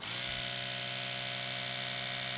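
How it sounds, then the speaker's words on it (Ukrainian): An Oral-B Vitality 100 electric toothbrush switches on and runs with a steady, even motor buzz, close and alone, holding constant for a couple of seconds. "Оце щітка, тобто вмикаємо"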